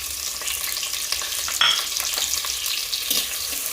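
Onion, ginger, green chilli and curry leaves frying in hot oil for a fish curry give a loud, steady close-up sizzle, with a spoon stirring through it and one sharper clink.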